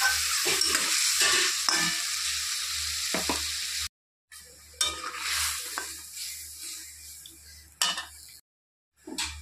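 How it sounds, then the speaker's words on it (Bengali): Oil sizzles steadily as pointed gourd pieces fry in a pan, with close scraping stirs and a couple of brief silent gaps. "তো পটলগুলো ভাজা ভাজা হয়ে গেছে"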